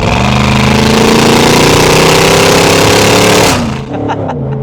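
Mercedes G63 AMG fitted with an Fi exhaust, driving in sport mode, gives a loud, steady, rumbling engine drone close by that holds for most of the run, then drops away sharply near the end.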